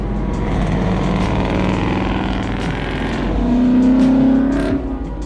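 Two Ford Mustang GT 5.0 cars pass by, their engines a loud continuous low rumble that swells as they go past.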